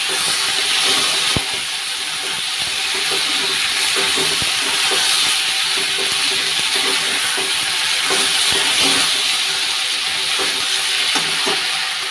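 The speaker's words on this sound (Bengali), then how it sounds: "এই যে পাস্তাটা এখন পেঁয়াজ দিয়ে দিলাম," Pasta and onions fry in a hot pan and are stirred, with a loud continuous sizzle and hiss and repeated scraping and clacking of the spoon against the pan throughout.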